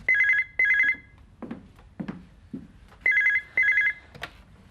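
A telephone rings indoors in a farmhouse, two short double-trill bursts, a pause with soft knocks and movement, then two more double rings, loud and close with no talk over it.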